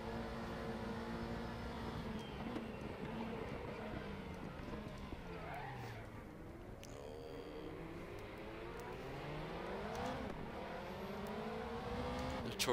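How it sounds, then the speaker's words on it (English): A Porsche Group C race car in a RaceRoom race at Hockenheim roars past, its engine note sweeping up and down through gears over a continuous blare of other racing engines. "The Porsche gets past me."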